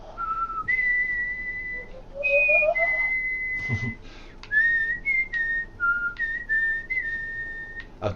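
A person whistles a tune close up, with clear sustained notes and sliding pitches in a loose, halting melody over a low background hum.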